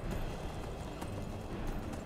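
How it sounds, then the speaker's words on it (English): Hooves of a horse in the Skyrim video game clop in a quick, steady galloping rhythm, fairly close, with no talk over them. "the horse is trying his best. He can only run in short bursts though."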